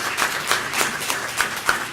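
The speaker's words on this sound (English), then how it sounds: "we need to make sure we recognize with a round of applause is our parents" A school board meeting audience claps in a round of applause for parents, a steady patter of hand claps with a few sharper peaks, moderately close and without talk.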